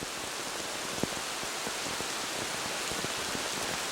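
Pouring rain falling on a river, a steady dense hiss of water with scattered individual drops and small splashes, constant and even throughout with no voices.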